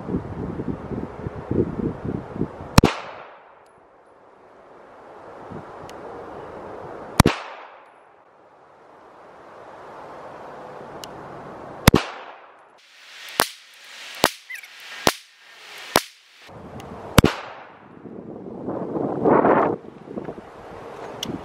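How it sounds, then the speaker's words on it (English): Walther CCP 9mm pistol fired at an outdoor shooting range at about seven yards: loud sharp cracks, single shots spaced a few seconds apart, then a quicker string of several, with wind noise throughout. "gonna go to the CCP in 9mm and I'm gonna try to keep all these shots in the head"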